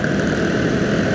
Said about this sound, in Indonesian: Malam ini saya jalan memakai motor Suzuki Next 2